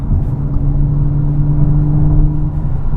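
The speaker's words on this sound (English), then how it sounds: "You hear the exhaust because I'm in dynamic." A steady low engine drone with a deep exhaust hum from a 2016 Audi S5 coupe in dynamic mode, heard from inside the car at a constant pitch, fairly quiet and with no one talking.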